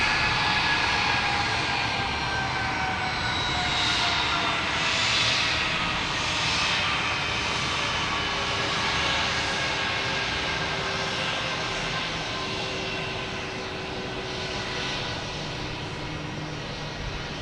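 A Delta airliner at Boston Logan Airport gives off a steady, sustained jet engine roar with a faint whine above it, loud and continuous and free of talk.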